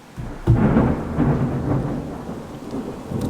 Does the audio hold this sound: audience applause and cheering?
no